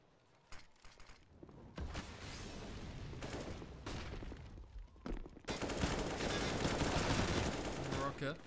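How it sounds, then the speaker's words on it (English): Pistol gunfire rings out in a competitive esports shooter match between Space Jam and GoodJob, with rapid bursts of shots trading back and forth, loud and dense, overlapping with excited commentary. "Trading blows with the pistols, and suddenly they have themselves an edge."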